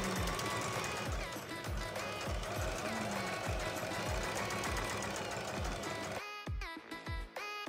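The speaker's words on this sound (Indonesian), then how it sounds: "Kita jahit." A sewing machine stitches the edge of a side-slit bergo hijab, running as a rapid, even mechanical chatter close to the mic, then slowing into a few separate thumps near the end.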